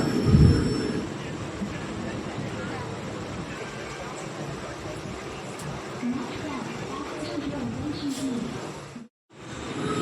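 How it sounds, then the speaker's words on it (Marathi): A moving suburban train from Borivali rumbles steadily with a low, continuous roar and occasional rattles, with people talking faintly over the noise. "आता आम्ही ट्रेन पकडली आहे बोरवलीवरून"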